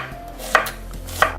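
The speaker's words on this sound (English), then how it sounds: "Hubby is going to prepare the onions that will be going into our steak. If you notice, he's doing moon shapes." Onions are chopped into moon shapes for steak, with two distinct knife strikes on a cutting board against a low background hum.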